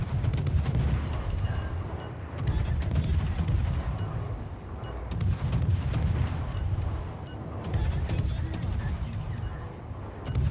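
Naval guns from a destroyer fire in World of Warships, with deep booming salvos repeating every couple of seconds over a steady low rumble of ocean and engine noise.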